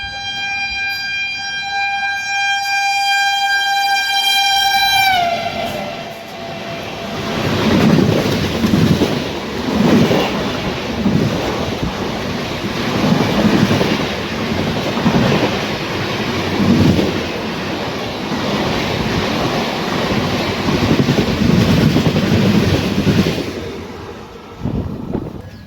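Bhagat Ki Kothi Express rolling slowly: a long harmonic horn blast for the first few seconds gives way to a steady, loud rumble of wheels and carriages with rhythmic clatter swelling and easing throughout.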